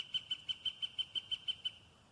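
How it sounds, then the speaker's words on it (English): A pileated woodpecker calls in a forest, a run of about ten quick, evenly spaced high notes that are clear but moderately distant, tapering off at the end. "Pileated woodpecker."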